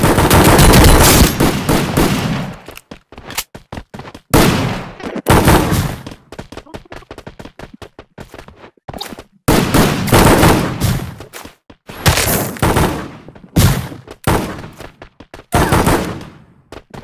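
Automatic gunfire in the mobile shooter Free Fire: loud, close bursts of rapid shots in repeated volleys separated by short pauses, with faint single shots between the bursts.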